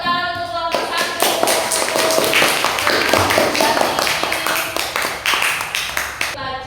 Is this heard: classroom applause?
yes